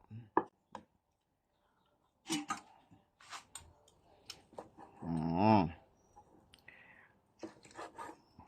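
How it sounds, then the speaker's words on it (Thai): Knife chopping beef on a cutting board for Thai braised beef stew, with irregular close, sharp chops in bursts and a brief tonal sound midway through. "หั่นเนื้อก่อนเลยครับ"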